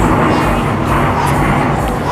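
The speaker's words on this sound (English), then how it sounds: "Excuse me, plane." An airplane flies overhead during a home workout as a loud, steady broadband roar that fills the whole moment.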